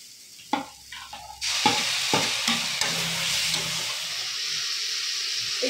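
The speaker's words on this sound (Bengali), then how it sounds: "পুরো মশলাটা একটু সামান্য কষিয়ে তারপর আমি টমেটো বাটা দেব" A spice paste fries in a pan for a Bengali mustard pomfret curry, starting with a few knocks and scrapes before a loud sizzle surges up and settles into a steady hiss under intermittent stirring.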